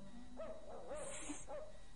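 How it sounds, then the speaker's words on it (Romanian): A dog barks a few times in quick succession, faint and distant, over a quiet background. "Auzi? Un lătrat."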